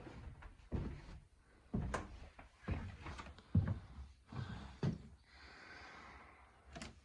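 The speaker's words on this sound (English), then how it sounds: "I put my foot here, and the house creaks in that room." Old wooden floorboards creak underfoot inside a log-supported house in a Montana ghost town, a series of separate groaning creaks and knocks spaced over several seconds, fairly close and with no talking.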